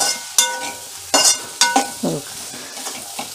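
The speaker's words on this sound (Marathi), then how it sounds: "थोडंसं ओलं खोबरं असं मिक्स केलं ना" Potato bhaji is stirred with fresh grated coconut, and a spoon clinks and scrapes against the pan in a series of close, distinct strokes at an uneven rhythm, with no voices.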